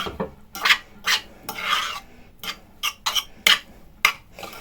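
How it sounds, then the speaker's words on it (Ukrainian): Warm sushi rice being stirred in a pot with a utensil, giving a series of scraping, clinking strokes at an uneven rhythm, close and fairly loud, with no talking. "І добре-добре перемішуємо."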